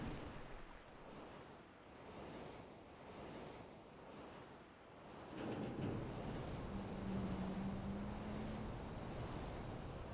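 Ocean waves surge and wash steadily in Mario and Luigi Superstar Saga as a ship sinks into the sea, a continuous broadband roar that swells louder partway through, with a low tonal hum entering later.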